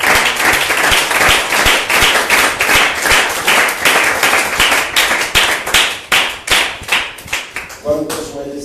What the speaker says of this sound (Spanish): Denles aplausos al Señor Jesucristo.